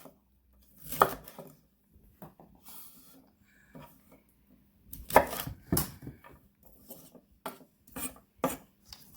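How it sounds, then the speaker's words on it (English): Knife cutting through broccoli on a board, producing scattered dry crunchy chops in irregular bursts, fairly close and moderately loud, with no talking. "So you just cut up your broccoli"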